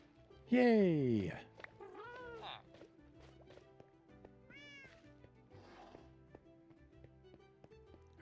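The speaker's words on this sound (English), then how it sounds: "I've forgotten all about Fungus the cat." A cat in a video game lets out one loud, drawn-out meow, followed by several softer, shorter meows over steady background music tones.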